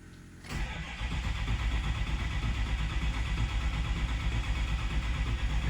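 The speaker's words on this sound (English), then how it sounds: "So I guess now we do the old long crank and see how she's gonna do." A Ford 6.0 Powerstroke diesel truck engine with a new injector cranks over after a brief quiet start, a steady loud churning rhythm that continues throughout without talk.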